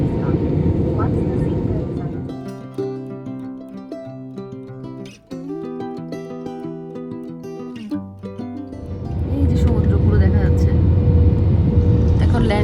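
Airplane cabin noise on final approach to Goa: a steady broadband engine roar, then a quieter stretch with music-like tones over it, and the roar swells again near the end. No clear speech is heard.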